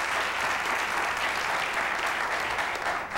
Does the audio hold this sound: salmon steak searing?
no